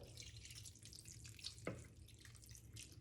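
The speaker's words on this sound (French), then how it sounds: "Et alors maintenant on va rajouter une cup, donc 250 ml d'eau." Water poured onto sprouted spelt seeds, a steady soft trickle with one brief splashy drip partway through, close and fairly quiet with no voices.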